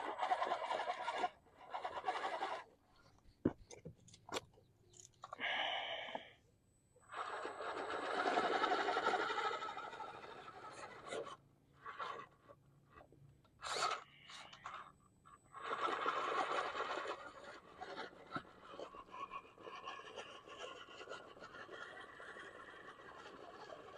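An Axial Gilamon RC crawler's electric motor and ESC whir in short, varying bursts outdoors at a park, the motor's whine rising and falling as it slow crawls, with scuffing and clatter mixed in.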